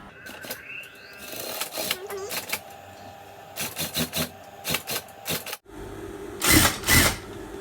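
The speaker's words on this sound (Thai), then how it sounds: "พี่เก๋จะเย็บซ้ำอีกรอบหนึ่ง เพื่อความ แน่นมากขึ้นของตัวเสื้อ" A sewing machine running in short bursts as it stitches the side seam of a shirt being taken in from size L to S, close and loud, with pauses and a final longer run.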